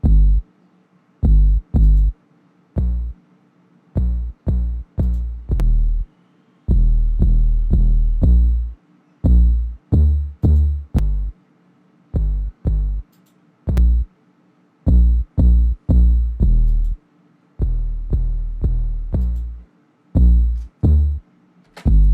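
Punchy 808 bass notes in a rhythmic hip-hop pattern, first clean and then distorted, each hit a deep booming thump with crisp hi-hat ticks above, loud and close with no talking.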